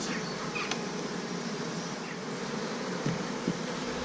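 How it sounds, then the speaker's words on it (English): Bees buzzing in a dense, steady drone around an overwintered nucleus colony being moved into a hive, close and continuous with a few louder individual passes near the microphone. "Lots of bees coming in here."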